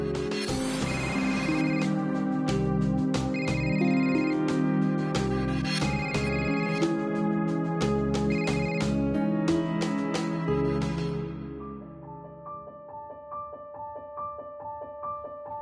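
A telephone ringtone for an incoming call plays loud and steady as a repeating melodic tune over background music, then fades to a softer, thinner tone near the end.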